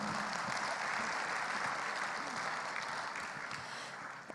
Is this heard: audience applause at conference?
yes